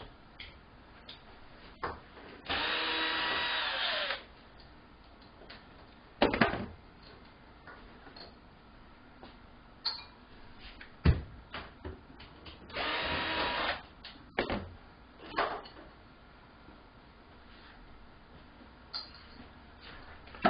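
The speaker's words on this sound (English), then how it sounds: "Now we're going to take off the side panel, electrical panel here by removing these 2 screws." Two screws come out of the side electrical panel of a Fisher & Paykel OS302 washing machine, heard as two separate steady whirring bursts with scattered ticks and knocks between them in a quiet room.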